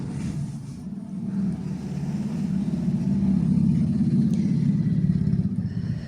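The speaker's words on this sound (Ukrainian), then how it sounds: "Вікно відкрите і дуже чути кожну машину на вулиці." Steady traffic rumble of cars going by on a street, swelling gradually louder as a vehicle approaches, heard from indoors through an open window with no talking.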